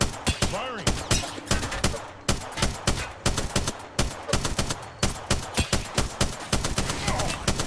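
Rapid bursts of automatic gunfire from the Apex Legends battle royale game, loud and close, firing in repeated sharp volleys with brief gaps between bursts, alongside other in-game sound effects.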